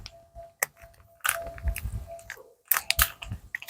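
An animal gnaws and chews on a bone, giving repeated crunching bites in uneven bursts close by, with pauses between chewing spells and faint background noise.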